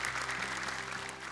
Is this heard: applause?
yes